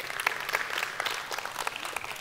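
Church congregation applauding, a steady dense wash of many hands clapping at once, fairly loud and continuous without voices.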